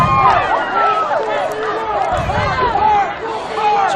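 Lively crowd noise at a night high school football game in Atco, New Jersey, Winslow Township hosting Pennsauken: a steady, close roar and babble of many voices that holds through the whole stretch.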